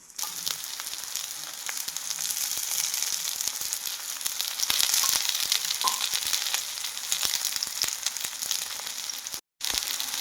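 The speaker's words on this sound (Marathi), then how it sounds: "आता हे लोखंडी तव्यावरती मी हे कटलेट असे शालो फ्राय करून घेणार आहेत" Corn cutlets shallow frying in oil on an iron tawa give off a steady, close sizzle that runs without a break, with faint crackles and one very short drop to silence near the end.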